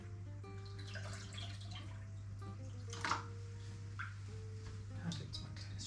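Water is poured into a home aquarium with a small, steady trickle and splash that stays quiet under a constant hum, with faint clinks and a soft burst of splashing partway through.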